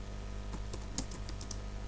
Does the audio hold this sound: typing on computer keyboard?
yes